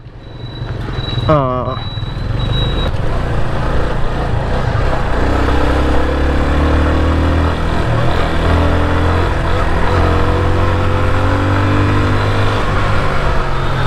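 A Yamaha FZ25 motorcycle ridden hard along a broken road, its engine droning loud and steady with rising and falling revs under strong wind rush, after a brief high beep near the start.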